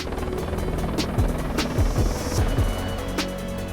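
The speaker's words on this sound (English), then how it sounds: "The helicopter flight back down the valley was definitely spectacular" A helicopter drones steadily with loud, rapid rotor thumping, close and continuous throughout, flying down a valley from Everest Base Camp.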